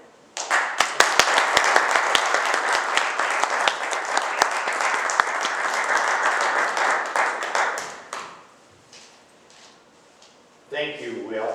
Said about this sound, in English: I think we ought to give Will another big round of applause